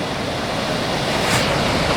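Minnehaha Falls in Minneapolis pours steadily into the creek below, a continuous broadband roar of rushing water with no pauses and no voices.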